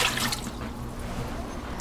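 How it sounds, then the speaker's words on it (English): Two cups of water pouring into the pot of a Ninja Foodi cooker, a short close splashing trickle with a few drips, heard alone. "2 cups of water going in."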